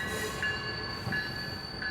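Chicago commuter train, South Shore Line or Metra, rolling past with a steady close rumble, a constant high whine and a few short wheel squeals, with no voices.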